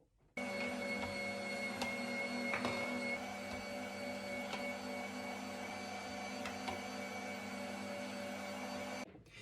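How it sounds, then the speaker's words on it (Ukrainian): A meat grinder steadily minces boiled carrot, eggs and processed cheese, a continuous motorized whir with a mechanical hum running at even loudness throughout, starting abruptly and cutting off near the end, no talk. "І це усе перекручую через м'ясорубку"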